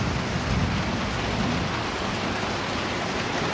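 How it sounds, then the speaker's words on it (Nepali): Heavy rain pours down steadily and loudly with thunder rumbling through it, a dense, continuous downpour heard close by with no voices. "यस्तो मजाले पानी पर्यो है हाम्रोतिर त"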